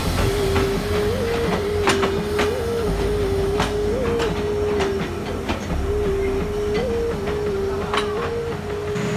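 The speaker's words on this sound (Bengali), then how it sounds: "এই কিছুক্ষণ পরেই সামনে থেকে একটা ট্রেন আসতেছে" A train rumbles along the rails near a Bangladeshi station with a continuous heavy drone, sharp metallic clanks and squeals scattered throughout, loud and close with no voices.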